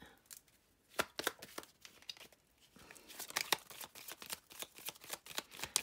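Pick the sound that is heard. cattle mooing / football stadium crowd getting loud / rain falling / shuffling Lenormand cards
shuffling Lenormand cards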